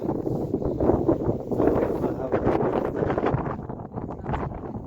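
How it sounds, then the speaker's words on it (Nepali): Strong wind gusts laden with sand roar steadily across open ground, broad and rough at close range, swelling and easing slightly but never dropping away. "बालुवा सहितको हावा"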